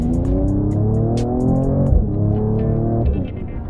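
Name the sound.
Mercedes-AMG E53 engine in sport mode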